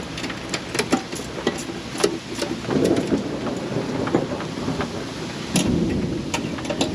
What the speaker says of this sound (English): Yeah, listen to that thunder.